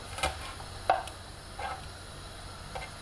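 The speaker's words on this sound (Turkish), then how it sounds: "Biberlerimizi de doğradık." A few separate knife chops through peppers on a cutting board, sparse and irregular, close by with quiet room tone between them.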